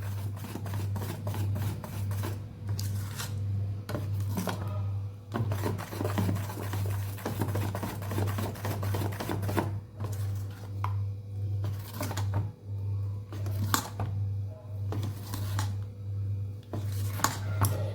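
Bottle gourd dhokla batter is mixed with oil in a bowl, a rapid run of light tapping and scraping strokes from a spoon against the bowl, close and steady, over a constant low hum.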